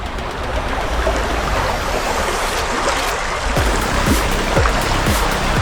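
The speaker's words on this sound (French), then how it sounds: "Voilà l'état de la rivière." A river full of algae flows steadily, a loud and constant rushing wash of water close by, with no voices.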